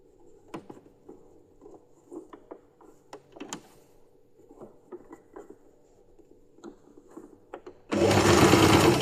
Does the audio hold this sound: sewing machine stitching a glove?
yes